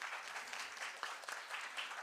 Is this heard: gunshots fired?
no